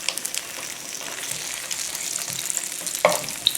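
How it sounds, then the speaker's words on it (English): Vegetarian wings sear in a frying pan with a steady sizzle, then a few sharper crackles and a clatter near the end, heard close and alone. "we're going to take our wings here and we're going to fry them in the pan"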